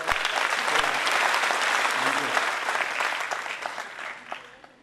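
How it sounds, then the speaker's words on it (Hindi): An audience at a Hindi kavi sammelan claps steadily for a poet on his birthday, a dense sustained round of applause that holds strong for several seconds before gradually thinning out, with a few scattered individual claps near the end. "एक बार ताली बजा करके"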